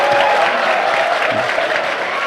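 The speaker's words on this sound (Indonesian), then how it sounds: "Ngono ya tepuk tangan." Audience applause at an Indonesian religious sermon gathering, a dense crowd clapping steadily and loudly throughout with no pause.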